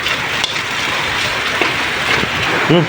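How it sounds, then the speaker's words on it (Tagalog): Steady, dense rain hisses throughout with a constant wash of noise, heavy and close, with no voices. "Grabe, walang tigil yung ulan."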